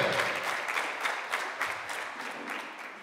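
A church congregation applauds at a youth gathering, dense rapid clapping from many hands with a slightly pulsing rhythm, steady and moderately loud, no voices standing out.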